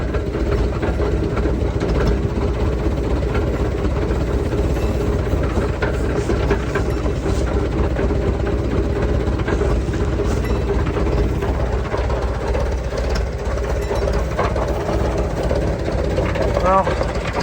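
Small engine of a machine called Herb running steadily with a rotary hoe attached, a constant close, loud low rumble with a faint rattling mechanical texture, holding even for the whole stretch with no break.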